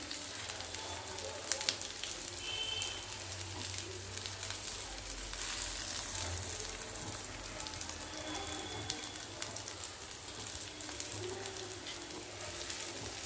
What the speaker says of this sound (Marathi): थोडंसं तेल टाकूया नंतर सगळं कांदा वगैरे सगळं मिक्स करून भाजायचं